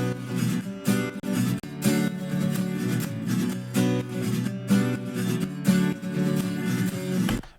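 Electric guitar strums chords inside a dense, full dance-pop mix for a remake of a song, with rhythmic punchy hits and steady energy, ending abruptly.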